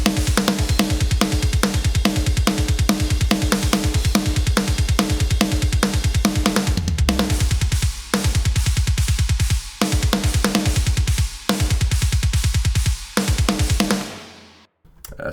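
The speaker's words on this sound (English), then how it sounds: "Now the drums sound like this." Heavily distorted lo-fi drum mix from a djent production, punchy kicks and crashing cymbals hammering in a fast, dense pattern, loud and upfront throughout, with brief dropouts near the end before it fades out.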